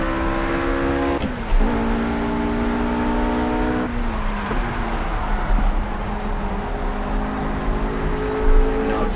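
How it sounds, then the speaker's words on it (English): RUF RGT 8 race car in Project CARS on the Eifelwald circuit, engine note climbing steadily through several upshifts, each gear change marked by a brief dip before the revs rise again, loud and close with steady road noise beneath. "I will accelerate up to fifth gear for you Achilles"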